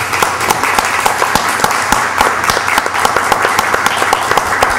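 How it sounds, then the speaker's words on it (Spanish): Loud, close applause fills a municipal council chamber at the end of an extraordinary session honoring the deputy mayor, many hands clapping steadily with a few sharper individual claps, no speech over it. "a pedir un aplauso para el señor teniente alcalde"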